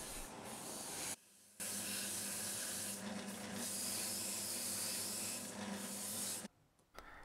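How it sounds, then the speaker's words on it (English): A steady, loud abrasive whirring hiss runs almost continuously, with brief breaks where it drops away, as a wax finish is buffed off on a drill press. "I buff it off on the drill press"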